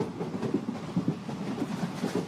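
A train rolls along the rails at night, wheels clicking in a steady repeating clickety-clack over a low continuous rumble, moderately close and without talk.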